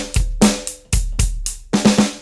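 Drum kit groove in 5/8 with an added bass drum note and an extra snare hit, a repeating pattern of sharp, loud strikes with booming low kicks, played alone without talk.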